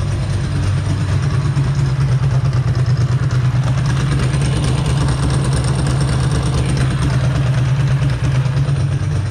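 A Ducati 2V engine with aftermarket EEPROM and open mufflers idling, a loud, steady low throbbing rumble held close and constant the whole time, with no voices.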